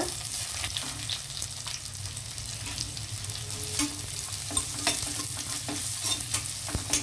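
Onions frying with whole spices in a pan: a steady close sizzle and crackle with spoon scrapes and occasional sharp clicks from stirring, no voices.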